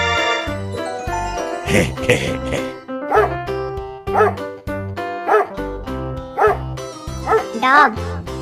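A cartoon dog in an animal animation barks a few times over a bright, busy music bed with light jingling, the yaps brief and mixed into the playful score.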